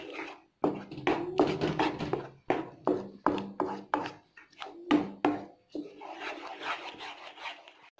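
A spoon scrapes and stirs thick milk peda mixture in a pan, with repeated rasping strokes in an uneven rhythm, close and moderately loud, each pass separated by brief pauses.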